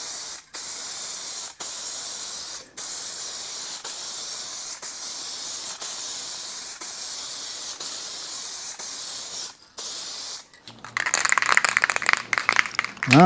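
Steady hissing spray paint applied in bursts to the rear window channel of a Mercedes W126 during rust repair, with short pauses between passes and a few sharper clattering sounds near the end.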